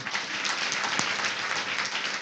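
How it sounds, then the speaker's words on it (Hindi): Church congregation applauding during a Hindi sermon, a steady wash of many hands clapping at moderate level for a couple of seconds, no voices over it. "अरे प्रभु के लिए तालियां नहीं बजाओगे?"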